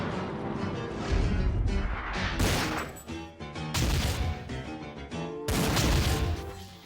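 Bursts of loud gunfire crack in rapid succession, several volleys with brief gaps between them, close and harsh.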